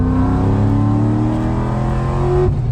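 Supercharged, cammed C6 Corvette engine holding high revs after a downshift to third, a loud steady close drone with a slowly climbing pitch and a quick drop near the end.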